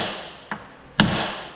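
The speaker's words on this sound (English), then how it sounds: "I'm going to get a metal bar and put on this hinge and a 2 or 3 pound hammer" Two sharp metallic taps from a two- or three-pound hammer striking a metal bar set against a car door hinge, the second louder, heard alone in a quiet garage-like space.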